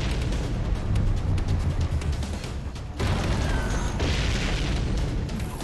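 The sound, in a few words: firefight explosion near the White House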